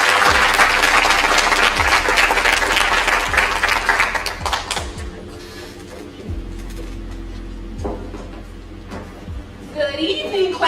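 An audience applauds at a school district's 2024 end-of-year celebration for education scholars, a loud, dense burst of clapping lasting about five seconds before it thins out, with a voice speaking over and after it.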